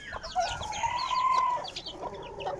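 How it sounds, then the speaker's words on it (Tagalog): Chicks and gamefowl chickens cluck and chirp in a backyard, a busy close chorus of overlapping calls with one longer drawn-out note in the middle. "Papakain tayo ng ating mga alagang sisiw."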